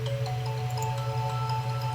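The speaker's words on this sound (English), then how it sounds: "The first thing to come in next is this like granular layer." A soft granular synth layer in an electronic music track, a steady low hum with faint sustained tones and fine grainy flickers on top, constant and quiet.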